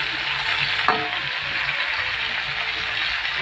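Green banana, potato, taro and jackfruit fry in a pan, a continuous close sizzle broken by a brief stirring clatter.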